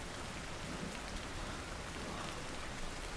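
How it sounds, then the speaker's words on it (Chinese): Steady rain falls in a kung fu movie scene, a dense, even hiss of drops with no break, moderately quiet and without voices. "正下雨呢，怎么站？"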